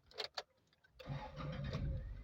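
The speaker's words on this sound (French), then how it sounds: "Je mets mon moteur en marche" A car engine cranks and catches, then settles into a steady, fairly loud idle on a hill-start driving lesson, preceded by a couple of short mechanical clicks.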